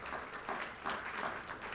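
Audience applause welcoming panelist Raviraj Karia at an internal audit expert session, a steady wash of many hands clapping, fairly faint and distant, with no talk over it.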